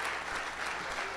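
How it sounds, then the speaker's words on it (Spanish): A church congregation claps together during a service, a dense, steady burst of applause from many hands that fills the brief moment without other sounds. "denle un aplauso al Rey de Reyes"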